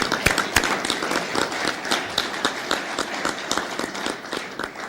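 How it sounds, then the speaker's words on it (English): Audience at a Toledo Rotary Club meeting applauding a newly inducted member, a dense run of close hand claps that holds steady for several seconds with no talk. "Can we give him a round of applause?"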